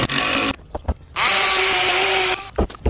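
Power drill boring into a custom column's foot to set an anchor, with a steady whine running about a second alongside brief knocks and rubbing taps before and after.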